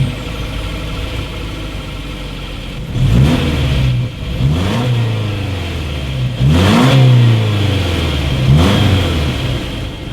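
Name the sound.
2.5-liter car engine exhaust revving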